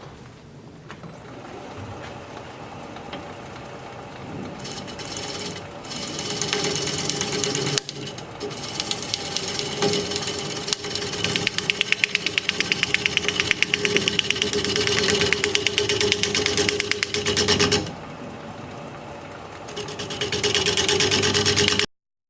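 A wood lathe spins a wooden stump while a tool cleans up the cut, a loud continuous mechanical whir with rough scraping texture and a couple of brief dips before stopping abruptly.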